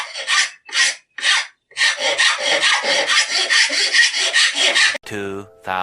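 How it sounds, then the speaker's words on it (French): Hand file rasping chamfers into a radio mounting fitting for a Renault 4L, with short separate strokes first, then a fast continuous run of close, loud scraping strokes, ending on a brief tonal sound. "J'ai fait tous mes chanfreins, hein. J'ai fait ça à la lime, hein, à l'ancienne."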